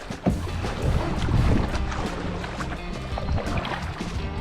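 A kayak is paddled on water near a beach, with splashing paddle strokes and the hull rushing through water under gusty wind buffeting the microphone; no speech.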